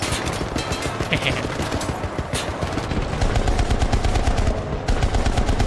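Rapid turret machine-gun fire in the video game Syndicate, dense fast bursts of shots running loud and nearly continuous throughout.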